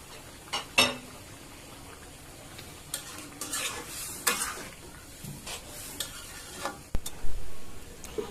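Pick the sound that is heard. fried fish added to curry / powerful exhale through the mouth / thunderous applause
fried fish added to curry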